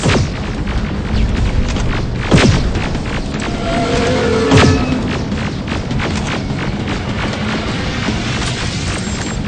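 A rocket explosion in a post-apocalyptic first-person shooter booms loudly amid a dense wash of continuous combat noise, with a couple of sharper impacts standing out.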